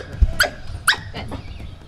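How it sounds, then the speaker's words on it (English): An Eskimo dog at a desert zoo gives two short, high yips close by, with faint rustling in between and no talking. "They actually communicate through a lot of yips and yaps."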